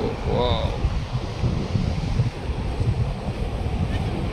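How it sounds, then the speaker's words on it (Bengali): Sea surf and gusting wind on the beach at Digha, a steady loud rush with wind buffeting the microphone throughout, while voices talk faintly in the background. "সমুদ্র কাছাকাছি চলে আসছি, দেখো"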